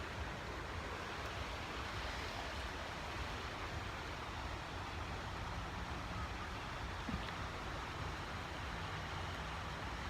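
River water rushes steadily outdoors in a continuous broadband wash that stays loud and unchanging throughout, with no voices.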